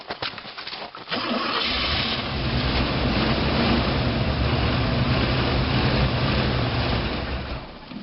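A 1984 Oldsmobile Delta 88 with 134,000 miles, just out of long storage and running rich, cranks briefly and then catches into a steady, rough idle, close and continuous with a low rumble.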